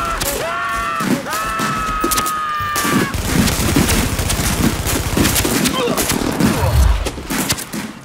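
Gunfire in The Division video game, with rapid bursts of automatic fire and sharp shots in a loud, dense firefight, while voices speak over the shooting.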